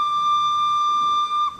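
A steam locomotive whistle gives one loud, sustained, steady tone for about a second and a half, then wavers and fades near the end. No voices.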